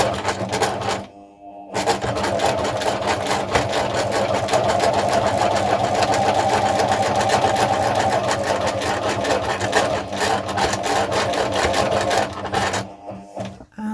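Sewing machine running steadily for free-motion embroidery, a fast even mechanical chatter of stitching that holds for about ten seconds between brief pauses at the start and end.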